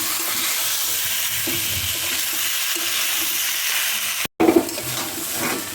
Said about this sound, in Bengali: জল ঝরিয়ে রাখা চাল দিয়ে মশলার সঙ্গে এটা পাঁচ মিনিট মতো ভালো করে ভেজে নেব